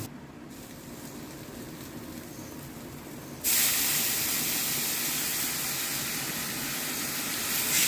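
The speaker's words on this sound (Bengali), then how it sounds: "এবার আমি এর মধ্যে দিয়ে দেবো জল।" Water is poured into a pan of fried spice paste for an egg curry, setting off a sudden loud hissing rush of steam and sizzle that stays strong after a quieter frying start.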